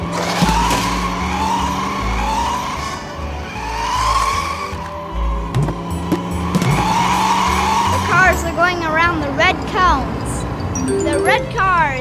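Animated toy race cars skid and squeal on a slippery track, with engine whines rising in repeated sweeps and sharp tire screeches near the end, all under a narrator's voice.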